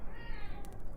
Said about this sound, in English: I don't know if you can hear him meowing in the background.